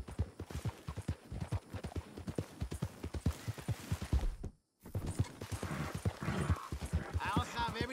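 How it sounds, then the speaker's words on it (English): Rapid hoofbeats of galloping horses in the video game Red Dead Redemption 2 thud in a quick rhythm, close and fairly loud, briefly dropping out before resuming with more clatter. "You hear those horses, those shots?"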